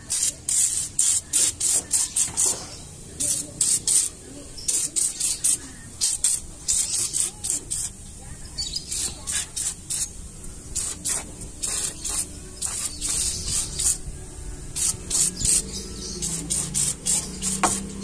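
Rat repellent is sprayed into the engine bay of a Suzuki Ertiga in repeated short hissing bursts, some quick and some longer, up close and loud with brief pauses between; no talking.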